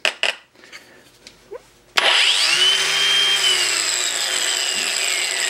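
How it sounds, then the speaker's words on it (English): A Ryobi P423 brushless angle grinder winds down after a few faint handling clicks, its whine falling steadily in pitch, close and fairly loud, with no speech. "It goes down, but then at the end it sort of ratchets, but that's just because it has a brushless motor."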